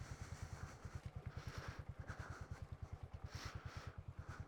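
A Honda Grom motorcycle with off-road mods rides a byway, its small engine giving a steady, rapid low putter throughout at an even pace, with no talk.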